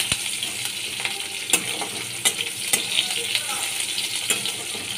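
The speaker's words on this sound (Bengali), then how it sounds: "একটা পেঁয়াজ কুচি দিয়ে দিলাম। পেঁয়াজটাকে ভালো করে ভেজে নিচ্ছি।" Chopped onion frying in oil with a dried red chilli and panch phoron, a close, continuous sizzle punctuated by sharp clinks of a spoon stirring against the pan.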